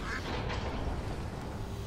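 Ducks quacking in Lego Batman 3: Beyond Gotham, faint quacks mixed into a steady bed of game noise and music.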